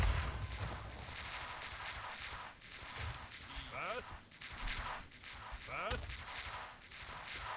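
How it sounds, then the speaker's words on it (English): A trebuchet in a medieval strategy video game hurls shots at workers, heard as repeated thuds and impacts amid busy battle noise, with a voice speaking over it. "the trebuchet is shooting at my workers"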